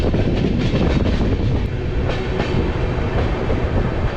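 The Howrah–Amritsar Punjab Mail rolling along the rails in India, a loud, steady rumble from close by with rhythmic clickety-clack of the wheels throughout, no voices.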